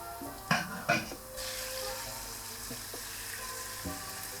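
Peppers and sweet pepper paste fry in a pan with a steady broadband sizzle, broken early by two clattering knocks of a utensil and a few softer scrapes later on.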